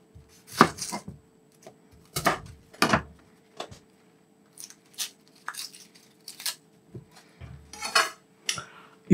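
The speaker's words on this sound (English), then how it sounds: "We need to peel and dice the onion." A knife dicing an onion chops sharply on a cutting board in irregular bursts of strikes, close and crisp, with short pauses between runs.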